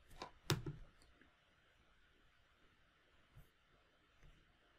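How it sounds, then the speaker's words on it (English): A computer mouse clicks the run button for Java Selenium test code, giving a couple of crisp, close taps in quick succession, followed by faint room noise and a few softer knocks. "So I click on the run."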